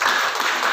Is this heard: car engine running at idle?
no